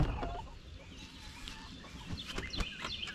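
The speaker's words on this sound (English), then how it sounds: "These are some of the mixed chickens." Mixed-breed chickens cluck in a loose, irregular stream of short calls over a steady outdoor background, with a few sharper bursts near the end, moderately close and without talk.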